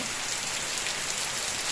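Steady rain falling in rural Tamil Nadu, a dense, even hiss of drops on surfaces that stays loud and unbroken from start to finish, with no voices.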